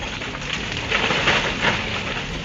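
Heavy monsoon rain pours across the western Himalayan states of India, a steady dense roar of downpour that stays loud and even for the whole stretch, with no voices.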